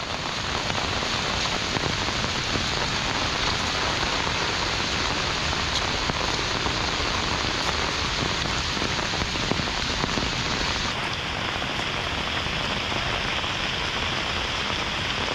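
Heavy monsoon rain in Konkan pours down in a dense, continuous hiss, steady and loud throughout with no voices.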